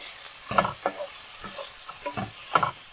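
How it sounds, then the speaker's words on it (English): Sliced beef tongue and mushrooms sautéing in a pan, with a steady low sizzle broken by several close, bright clinks and scrapes of a utensil stirring against the metal. "I'm going to use the same pan, sauteing pan, and just saute this a little bit more"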